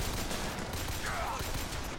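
Rapid gunfire from a weapon in the video game Bioshock Infinite, a dense continuous burst of shots filling the whole moment with no pauses.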